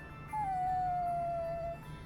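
A lost dog in the game Bravely Default 2 lets out a single long, clear howl that holds a steady pitch for over a second before fading.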